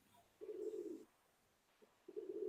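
A racing pigeon cooing close by, two low throaty coos separated by a short pause, faint against quiet room background.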